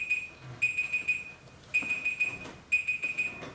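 An electronic alarm goes off in a lecture room, sounding shrill, rapid beeps in repeating bursts of about four, separated by short gaps, fairly loud and close.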